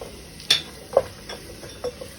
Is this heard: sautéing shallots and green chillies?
yes